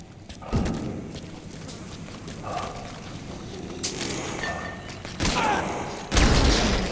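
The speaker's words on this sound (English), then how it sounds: "Shooting your own men!" Gunfire rings out in Metal Gear Solid V: The Phantom Pain, with several sharp, loud shots and impacts spaced unevenly over a busy background of game noise.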